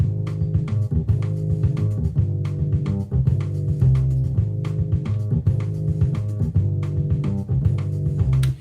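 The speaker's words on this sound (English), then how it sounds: "So this is the upright bass rhythm." Upright bass rhythm played on a white keyboard, with plucked low notes in a steady walking pattern over light percussive ticks, close and continuous with no talking.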